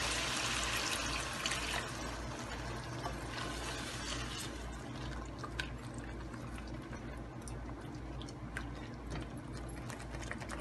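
Half a cup of water poured into frying masala with softened tomatoes while cooking chilli chicken, a steady close trickle and sizzle over continuous kitchen hum, with no talk.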